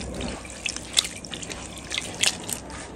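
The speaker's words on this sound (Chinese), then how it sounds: "多用水洗干净。" Running water from a tap splashes over enoki mushrooms being rinsed, a continuous soft trickle with scattered close drips and splashes as the mushrooms are handled.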